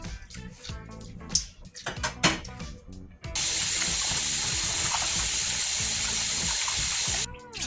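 Raw chicken rinsed with white vinegar and lemon under a running kitchen tap: wet handling splashes and rustling at first, then a steady loud stream of water gushing for several seconds before stopping.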